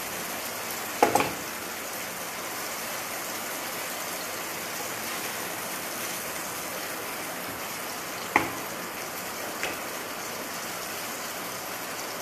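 Paneer frying in a pan, a steady soft sizzle and crackle that runs throughout at moderate level, broken by a few sharp clinks of a utensil against the pan, with no talking.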